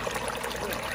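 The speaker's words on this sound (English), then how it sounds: "We're putting the water in." Water pours into a turtle tank in a close, steady trickling gush with bubbly splashing, running continuously before cutting off abruptly.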